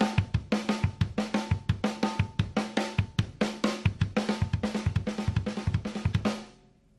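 A 2 and 2 drum pattern played on snare and kick drums: rapid, steady rolling hits alternating low thumps and sharp cracks, loud and close, continuing without pause for several seconds before ringing out.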